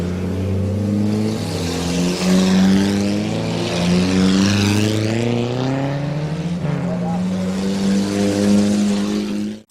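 Several race cars roar at Midvale Speedway as the green flag drops on a six-lap heat race, engines droning and rising in pitch together, loud and sustained, with a public-address voice faintly underneath.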